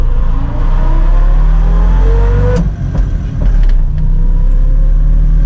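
A 1969 Fiat 500 L engine drones loudly and steadily while the car drives along a road, with its revs rising and falling, a couple of sharp clunks midway, and no talking.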